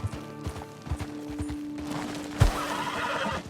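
A horse on a hillside ridge whinnies out loud while its hooves clip-clop in an uneven rhythm, with a sharp louder neigh midway and steady outdoor noise behind.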